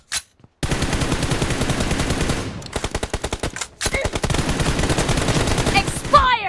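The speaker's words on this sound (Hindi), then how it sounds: "इतनी सारी गोलियां मारने के बाद में भी आलोक यहाँ पे फाइट हारता है" Rapid automatic gunfire from a shooting video game team deathmatch rattles in long, loud bursts, with brief gaps between volleys and a few single shots near the end.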